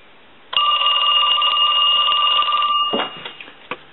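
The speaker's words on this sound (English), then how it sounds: "we're going to go ahead and ring it" A bell rings loudly inside an Ericofon telephone on a repair bench, one sustained metallic ring of about two seconds that stops abruptly, followed by a few handling clicks.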